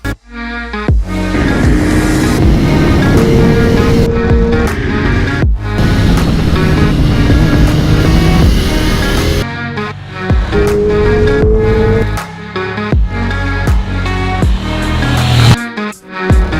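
A 2020 KTM Duke 890R motorcycle at full throttle, its loud engine note climbing with each gear, broken by brief dips at the shifts, under steady wind rush.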